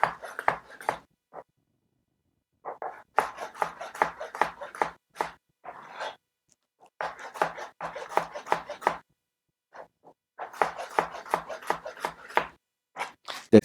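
A knife slices a tomato on a cutting board in quick clusters of crisp chops and taps, grouped into short bursts with brief pauses between them, close and clear.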